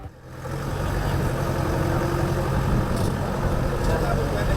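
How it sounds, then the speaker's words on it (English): A heavy tractor engine drones steadily and loudly while plowing land, a continuous low mechanical rumble that builds at the start and holds, with a faint voice under it. "the assuring sound of the engine as plow meets land"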